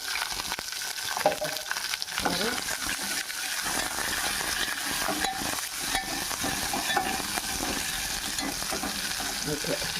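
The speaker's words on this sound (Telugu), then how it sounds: "మనం పచ్చిమిరకాయలు, టమాటా కోసాం కదా, అది వేసుకొని బాగా దోరగా ఫ్రై చేసుకుందాం" Green chillies and tomatoes frying in a pan, a steady bright sizzle with intermittent stirring scrapes and clinks throughout, close and continuous with no talking.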